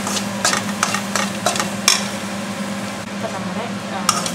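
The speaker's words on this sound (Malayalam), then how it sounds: "ഈ മീറ്റ് മസാലയുടെ പച്ചച്ചോ പോകുന്നത് വരെ നമുക്ക് നന്നായിട്ട് അങ്ങോട്ട് ഇളക്കി കൊടുക്കണം" Meat masala for an erachi curry with edichakka is stirred in a frying pan, giving repeated scraping strokes over a light sizzle, with a few louder knocks of the utensil against the pan.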